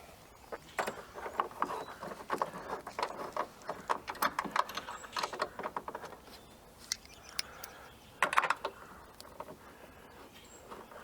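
Nut being tightened by hand or ratchet onto a tow mirror mount on a 1999–2007 Chevrolet Silverado 2500HD, giving a run of close, quick metallic clicks and ratcheting ticks, with a louder burst near the end.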